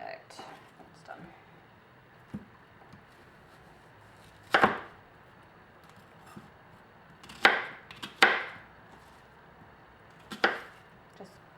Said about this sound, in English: just breaking up these onions